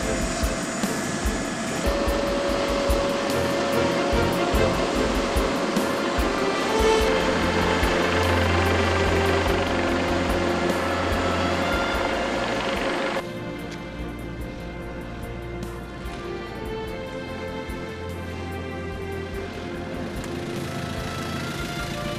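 Military helicopters from an air assault unit coming in to land, a loud steady rotor and engine roar that drops to a lower, quieter drone partway through.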